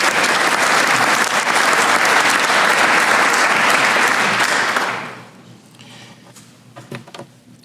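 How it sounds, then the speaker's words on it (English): An awards-program audience applauds a small business, steady dense clapping filling the room for about five seconds, then fading into quiet room noise with a few scattered sounds. "Please give them a round of applause, Smith Motors."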